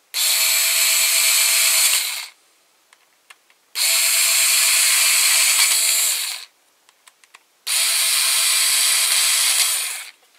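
A power screw gun drives screws into a Tamiya G6-01 RC car, three loud whirring bursts of about two seconds each separated by short pauses with faint clicks and handling noises.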